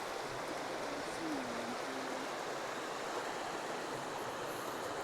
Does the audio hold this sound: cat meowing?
no